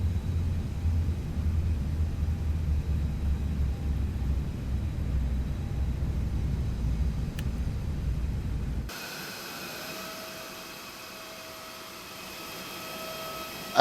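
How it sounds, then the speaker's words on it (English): An A321neo brake fan in the X-Plane 12 flight simulator, parked with engines shut down: a steady broadband whir with a low rumble runs, then the sound cuts to a quieter hiss with faint tonal hums. "And that's the sound of the brake fan."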